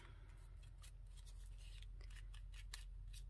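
Scissors snip around a small paper bunny cut-out in quick, light, close strokes over a steady low background hum, the crisp cuts coming in an uneven rhythm.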